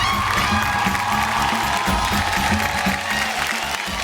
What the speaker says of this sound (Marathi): या ताई एकदा जोरदार टाळ्या होऊन जाऊ देत.